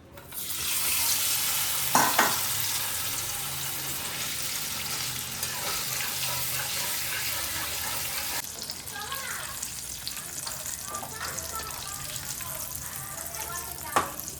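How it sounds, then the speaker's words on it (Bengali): Steady loud sizzling of salted vegetables frying in hot oil, continuous throughout, with a few clinks and stirring noises near the start and end. "তেলের মধ্যে দেওয়ার সঙ্গে সঙ্গেই ভাজা হয়ে যাবে"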